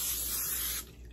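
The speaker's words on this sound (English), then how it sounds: "You still spray liberally." Oil sprayed liberally over a batch of lavash crackers, a steady close hiss lasting about a second before cutting off.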